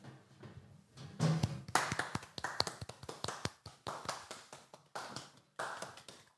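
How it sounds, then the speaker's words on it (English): Podcast hosts clapping in a small room, a close, uneven run of separate hand claps and taps with short pauses between bursts, no talking over it. "Let's stand up and give everyone an applause."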